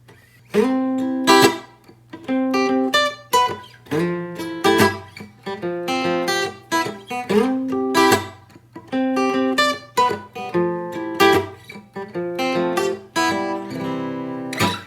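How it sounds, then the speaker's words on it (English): Clean electric guitar plays quick major 9 arpeggio licks, bright notes rising and falling in short phrases separated by brief pauses. "today we got some extra crispy licks, and they're going to be built around a major 9 arpeggio."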